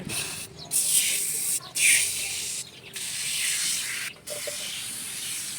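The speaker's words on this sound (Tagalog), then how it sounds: "So, dito natin unang spray." Foam tire cleaner hisses from a spray can onto a car tire in several sustained bursts separated by short pauses, close and fairly loud.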